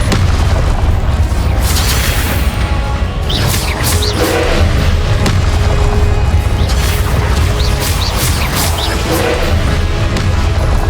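Blast of a Confringo explosive spell in the Hogwarts Legacy video game: loud, dense booming crashes and rumbling impacts that run continuously for about eleven seconds, with sharp bursts and whooshing effects layered over heavy low-end rumble.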